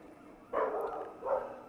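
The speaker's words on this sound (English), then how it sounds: "Oh, and there's a dog." A dog barks twice, the second bark about three-quarters of a second after the first, moderately close and fairly loud against a quiet room.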